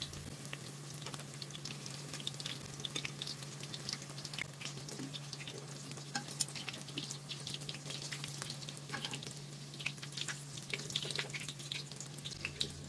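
Spoonfuls of lazy pirozhki batter frying in a pan, a faint continuous sizzle and crackle with scattered small pops, alongside a steady low hum, with no talking.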